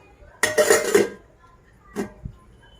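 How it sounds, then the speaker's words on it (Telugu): A lid is set onto a container of unsalted dosa batter, giving a short burst of metallic clattering and clinking, followed a second later by a softer tap and a low knock, close and quiet otherwise. "ఉప్పు వేయకుండా ఇలాగ మూత పెట్టేస్తున్నాను"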